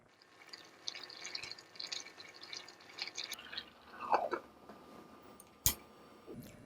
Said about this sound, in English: it's boiling now.